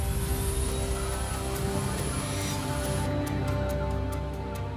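A search aircraft flies overhead with a steady, loud engine drone and a high whine that cuts off partway through, followed by faint rhythmic pulsing under the continuous roar.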